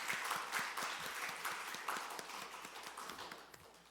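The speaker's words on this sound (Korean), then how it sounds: "우리 환영하며 박수하도록 하겠습니다" A church congregation at a Sunday service claps in welcome, a faint, distant spatter of many hands with quick irregular taps that slowly fades away.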